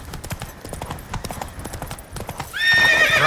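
Roach, a horse in The Witcher 3, gallops in a rapid, uneven drum of hooves for a few seconds, then lets out a loud, high whinny at the end.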